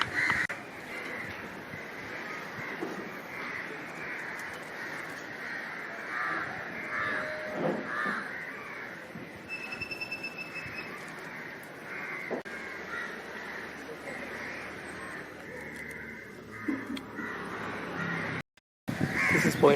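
Crows caw repeatedly at Point Pedro lighthouse in Jaffna, harsh calls rising and fading over a steady outdoor wind and surf-like hiss for about twenty seconds, with no talking.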